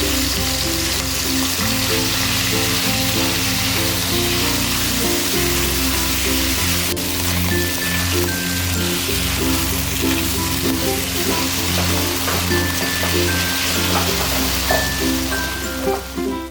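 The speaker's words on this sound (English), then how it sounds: "Sear the beef until it's just brown but still a little rare" Beef seared over high heat in hot oil in a pan or wok for a beef and pepper stir fry, a steady broadband sizzle running the whole time beneath prominent background music.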